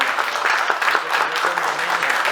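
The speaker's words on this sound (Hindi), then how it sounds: "आप सब जोरदार तालियों के साथ स्वागत करें" Audience applause welcoming guests at a show launch, a steady dense wash of clapping throughout, fairly close and continuous with a little voice mixed in.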